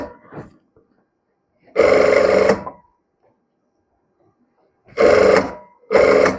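A sewing machine stitches a V-neck princess-cut blouse in three loud bursts, one long run followed by two shorter ones, with pauses and a brief bit of nearby talk at the start.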